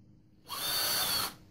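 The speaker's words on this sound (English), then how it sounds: "I'm going to go ahead and drill right through the back of it here." A power drill bores through a metal positioning bracket into the back of a deer skull, a single steady whining burst of just under a second, close and loud, with no talk.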